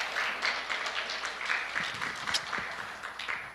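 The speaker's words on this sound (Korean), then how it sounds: "다시 한번 큰 박수 부탁드리겠습니다" Audience applause fills a seminar hall on records management after the final presentation, a steady wash of many hands clapping at moderate level for several seconds.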